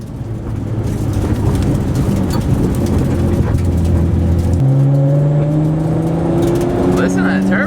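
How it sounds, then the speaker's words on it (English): A Nissan Skyline R32 with a turbo engine revs and pulls hard from inside the cabin, its loud, steady drone rising in pitch as the gears change, with occasional talk over it. "Listen to that turbo though."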